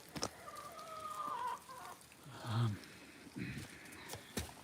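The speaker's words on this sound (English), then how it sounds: "Wait, Duke, let me see the chicken" Backyard chickens clucking near a coop built with 6x6 lumber, a few separate cackles and clucks spread across the moment with light background noise between them.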